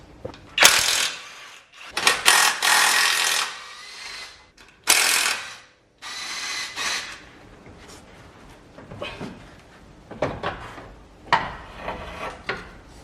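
Ratchet and spanner work on 18 mm bolts while unbolting a car steering rack, with repeated bursts of close metallic ratcheting and scraping separated by short pauses.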